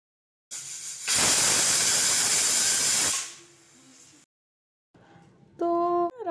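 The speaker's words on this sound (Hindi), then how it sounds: "वैसे तो बन गए हैं, लेकिन हम एक बिसल और लगवा लेंगे" A pressure cooker of rajma vents steam. A loud rushing hiss lasts about two seconds, then fades to a softer release, and a short whistle blast follows near the end.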